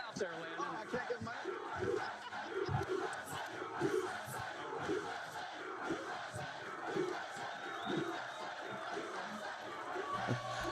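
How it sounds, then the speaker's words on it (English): A big World Cup watch party crowd for Netherlands versus United States roars and chants in rhythmic surges, loud and continuous, with voices calling out within the din. "Love this crowd behind us."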